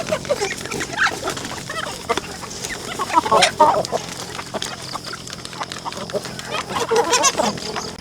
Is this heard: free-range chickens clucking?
yes